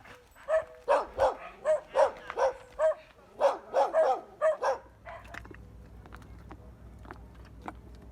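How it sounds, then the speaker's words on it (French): Stray dogs bark repeatedly in a rapid string of about ten sharp barks over roughly four seconds, close and loud, followed by quieter ambient rumble with no further barking. "Tu déranges les chiens errants, Blue."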